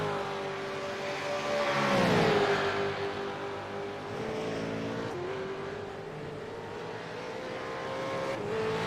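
V8 Supercars racing at Michelin Raceway Road Atlanta in Braselton, a loud engine whine rising and sweeping as a car passes close, then steady high-pitched drone of cars circulating.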